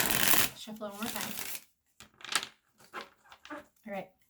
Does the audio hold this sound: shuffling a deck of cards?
yes